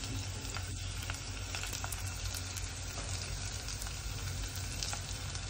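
Mustard seeds sizzling in hot oil for a tuna curry, a steady dense crackle and hiss with faint scattered pops, quiet and with no talking.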